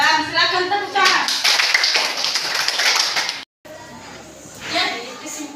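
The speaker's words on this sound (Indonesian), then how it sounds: "silakan tepuk tangan" A classroom of children clap their hands after a teacher's lesson, dense overlapping claps with chatter and kids' voices, a brief gap, then quieter clapping swelling again near the end.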